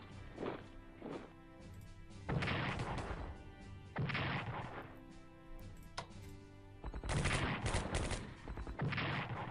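Artillery gunfire in the Strategic Command: World at War strategy game, several loud booming bursts of repeated blasts separated by short gaps, with no talk.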